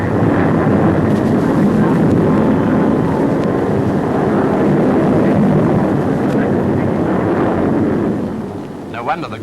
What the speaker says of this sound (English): the Canberra trainer is now seen to advantage in a spectacular sequence which shows off her amazing maneuverability